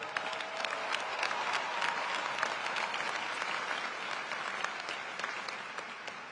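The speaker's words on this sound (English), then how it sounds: "let us give our alum a warm round of applause and welcome" A large graduation audience at Howard University applauds in a steady, dense wash of clapping that holds at an even level throughout, with no voices standing out.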